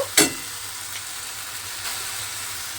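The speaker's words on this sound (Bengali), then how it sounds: "মশলাটা আমি এর মধ্যে দিয়ে ভালোভাবে একটু ভাজা ভাজা মতো করে নিয়েছি।" Spice paste sizzling in hot oil for an egg ball curry, with a sharp burst of frying near the start settling into a steady soft crackle under low background hum.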